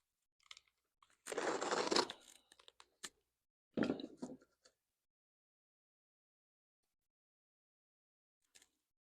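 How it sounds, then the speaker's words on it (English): A razor knife slices strips from a sheet, giving two crunchy, rasping cuts about a second long each with a few small ticks between, close and quiet in an otherwise silent room. "I'm gonna use that razor knife to save time."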